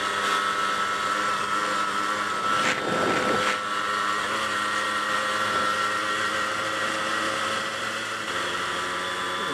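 A Yamaha RX100 two-stroke motorcycle engine drones steadily while riding in Pokhara, Nepal, with a buzzing harmonic tone, loud and close, a brief surge of rev and wind noise midway, and no talking.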